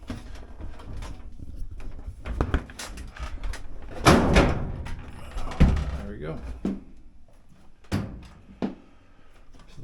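A GE dryer's front door is disconnected and lifted off, giving a few close thunks and clicks of metal panel handling in a workshop setting, with someone talking briefly between the knocks.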